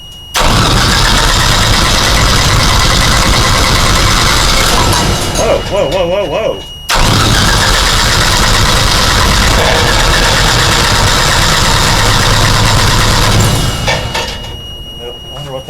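A propane-fuelled generator engine cranks and catches, running loud and rough, cutting out briefly, then restarting and idling steadily close by, with a startled exclamation from a person at the cut.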